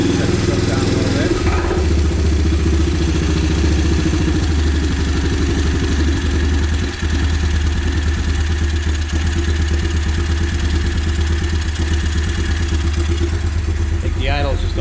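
A Yamaha Grizzly 350 4x4 ATV with a brand new carburetor idles low and close by, a steady, chugging rumble with rapid regular pulses that runs throughout, with a brief clatter near the start.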